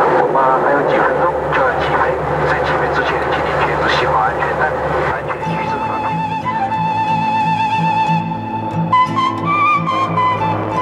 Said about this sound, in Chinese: 飞机终于离开了地面